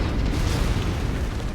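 A mech fires its weapon in the battle game MechWarrior 5, giving a short, loud, booming blast with a dense rumbling roar that fills the whole moment.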